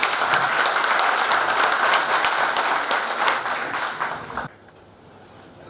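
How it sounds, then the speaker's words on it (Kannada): An indoor audience at a welcome event claps in a dense, lively round of applause that fades out abruptly after a few seconds, leaving a quiet room. "ಅವರಿಗೊಂದು ಗೌರವದ ಚಪ್ಪಾಳೆ ಕೊಡಿ"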